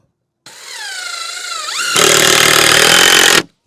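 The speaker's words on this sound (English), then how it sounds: "we'll just drill it in place." Power drill driving a screw into the wooden frame of a chicken run, a close, loud whirring motor with a pitch that dips and rises, then a harsher, louder grinding as the screw bites in before stopping abruptly.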